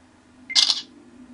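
A Samsung Galaxy Note smartphone camera fires its shutter once, a short, bright synthetic click up close over a faint steady hum.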